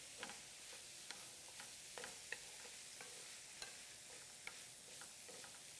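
Shrimp sautéing in a pan for shrimp and grits, a steady soft sizzle with occasional light stirring taps, heard alone without talk.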